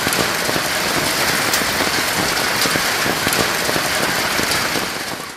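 Heavy rain falling steadily on a surface near a tarp-covered shelter, a loud, dense patter of drops that continues without break and fades slightly at the end.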